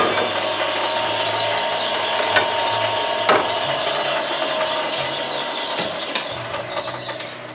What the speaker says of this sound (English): enough force to stamp all of the detail of the die into the sheet of gold